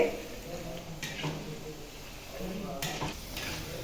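Cauliflower (gobi) pieces deep frying in hot oil for gobi fry, a steady low crackle and bubble running throughout, with a few brighter splashy bursts and faint utensil clinks.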